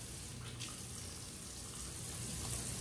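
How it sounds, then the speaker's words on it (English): Water runs steadily from a kitchen tap while hands are washed under it, a continuous close splashing rush with no talk. "let me wash my hands right quick."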